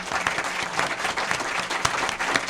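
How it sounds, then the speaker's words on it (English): An audience at a school board candidate forum for the St. Joseph School District gives a dense, continuous round of applause at moderate distance, with no speech over it. "let's have one more round of applause for our candidates"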